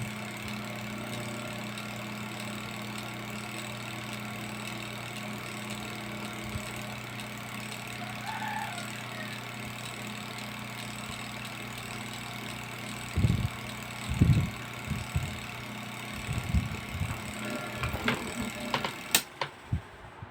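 A spin dryer motor hums steadily for most of the stretch, followed near the end by several short clunks and rattles, with no voices.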